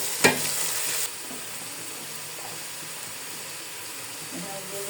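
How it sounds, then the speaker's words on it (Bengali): Three cups of washed, drained rice tip into hot oil with a sharp burst of sizzling and stirring for about a second, then the frying settles to a soft, steady hiss with faint scraping. "এর মধ্যে আমি দিয়ে দিব চাল। আমি চাল দিয়ে দেবো।"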